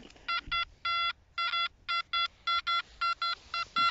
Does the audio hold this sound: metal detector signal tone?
yes